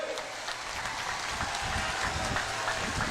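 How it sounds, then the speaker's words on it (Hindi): A large crowd applauds at a political rally in Assam, dense steady clapping that fills the space with a rain-like hiss for a few seconds. "जरा जोर से ताली बजाओ दोनों के लिए"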